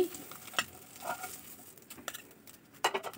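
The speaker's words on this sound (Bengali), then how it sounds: "এই তো সবগুলো ছানা আমি ভেজে নিয়েছি।" Chhana (cottage cheese) pieces frying in a pan for chhanar dalna, with a soft steady sizzle broken by a few sharp stirring clinks and scrapes.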